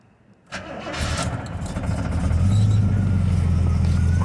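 A 1972 Oldsmobile Cutlass engine cranks briefly, catches and roars up, then settles into a deep, steady rumbling idle that grows fuller and louder, heard up close with no voices.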